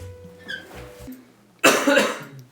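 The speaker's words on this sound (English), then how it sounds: "don't cough on camera" A sudden loud burst of coughing, close by, after a few seconds of quieter background murmur.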